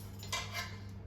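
Metal spoons clink briefly against dishes, two or three light close taps, while preparing to mix batter for cinnamon cupcakes.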